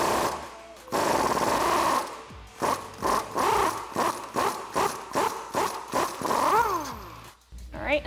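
Rapid mechanical rattling bursts from an impact or socket tool removing the track bar on a Jeep Wrangler JK axle with a 21mm socket, loud and close, repeating in short pulses.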